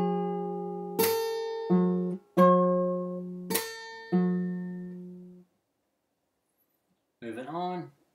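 A fingerstyle acoustic guitar plays a part of a song slowly, about five separate plucked notes and slaps ringing out with gaps between them, close and clear, followed by a short burst of talking after a pause.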